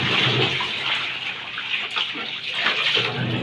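Water runs steadily and fairly loudly while laundry is washed by hand, a broad continuous gush with faint splashes and light movement underneath.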